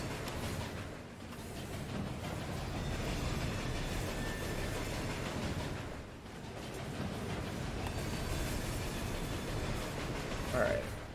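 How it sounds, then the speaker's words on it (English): A ghost train rumbles past in Murdered: Soul Suspect, a steady broad roar with rolling swells and a faint clatter, lasting several seconds in the game scene. "Ghost train."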